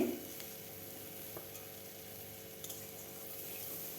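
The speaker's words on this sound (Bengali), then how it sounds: "এইভাবে নাড়তেই থাকবো" Vegetable peels fry over medium heat in a pan, giving a soft steady sizzle with occasional faint scrapes of stirring, quiet and close with no voices.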